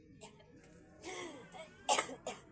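A few short coughs, the loudest pair near the end, with faint throat noise and soft breathing between them.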